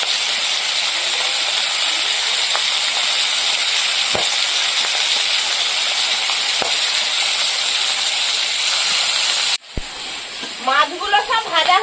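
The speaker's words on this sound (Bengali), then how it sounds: "এই মাছ ভাজতে গেলে ভীষণ খাটে, চারিদিকে তেল ছিটতে চলে যায়।" Kan magur fish frying in hot oil, a loud steady sizzle with scattered sharp spatter pops running almost throughout, then cutting to quieter sounds with a voice speaking near the end.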